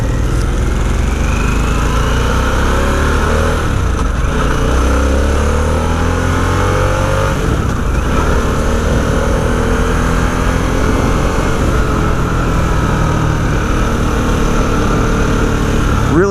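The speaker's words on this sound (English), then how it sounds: "Engine braking's tremendous." Harley-Davidson Sportster S motorcycle engine braking, a loud, continuous engine drone that swells and falls with shifting pitch as the bike slows, heard over steady wind rush while riding, without talk.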